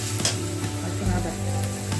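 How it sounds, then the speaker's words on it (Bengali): Garlic drops into hot oil with browned onion and cumin for Bengali vegetable chop, bursting into a loud, close, crackling sizzle with a stirring scrape and a low pan thump partway through. "এবার গেল রসুন"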